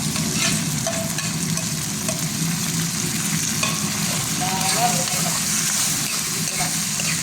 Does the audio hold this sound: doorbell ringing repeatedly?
no